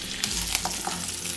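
Urad dal, chana dal, peanuts and curry leaves fry in hot oil with cumin, a steady close crackling sizzle with a few louder pops and stirring scrapes, no voices.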